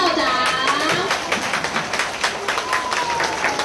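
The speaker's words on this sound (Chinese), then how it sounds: "掌声来谢谢我们的陈校长。" Scattered audience clapping at a children's performance event, uneven and pulsing, tapering into a few distinct hand claps toward the end, with faint voices in the background.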